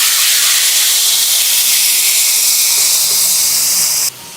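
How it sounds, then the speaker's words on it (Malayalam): Boiling water poured onto roasted vermicelli in a hot pan sends up a loud, steady rush of sizzling steam and hiss that keeps up for about four seconds, then drops off sharply. "ഇനി ഇതിലേക്ക് നമ്മൾ ചേർത്ത് കൊടുക്കുന്നത് തിളച്ച വെള്ളമാണ്."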